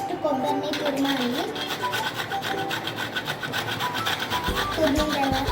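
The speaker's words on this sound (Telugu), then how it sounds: "ఫస్ట్ కొబ్బరిని తురమాలి." Fresh coconut being grated by hand while making sweets, with steady, rhythmic rasping strokes repeated throughout and faint background sound behind them.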